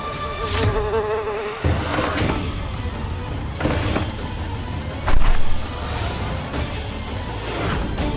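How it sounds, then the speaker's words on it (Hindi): A loud, close housefly buzzes continuously, its drone rising and falling as it moves about, with no talking. "वो मक्खी"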